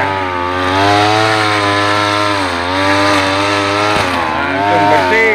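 A petrol string trimmer cutting tough grass in an avocado garden, its engine whining steadily and loud up close for the whole stretch, the pitch wavering as it bites into the growth, with no talk over it.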